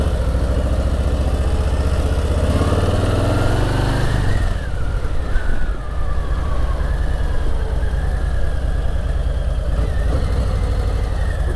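A 2020 Harley-Davidson Softail Slim with its 107 engine, riding along with a loud, steady V-twin rumble that swells under throttle for about four seconds, then drops back as gears shift, close and continuous throughout.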